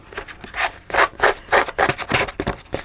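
Paper scrunched and crumpled by hand to look like aged old letters, a run of dry crackling rustles in short bursts, close and fairly loud, with no talking over it.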